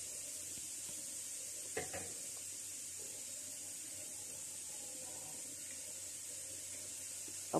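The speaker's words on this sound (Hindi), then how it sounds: "अब प्याज और लहसुन को थोड़ी देर ब्राउन कर लेती हूँ" Onion and garlic browning in a pan for an aloo karela (bitter gourd and potato) sabzi give a steady, low sizzle throughout, broken by one short scrape or clatter of a stirring utensil near the start.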